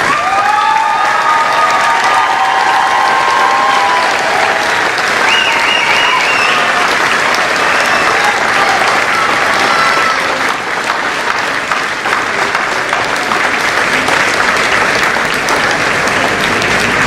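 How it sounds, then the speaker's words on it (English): A high school graduation audience applauds its teachers in a sustained, dense round of clapping that fills the hall at steady loudness, with faint cheers and crowd murmur mixed in. "I'd like to ask our teachers to please stand for a moment so we could give them a round of applause."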